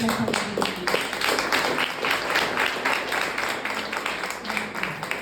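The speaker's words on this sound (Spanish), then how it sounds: "Dale fuerte el aplauso a Dios." Congregation applauding during a church service, dense sustained clapping from many hands filling the room at moderate loudness, with voices mixed in.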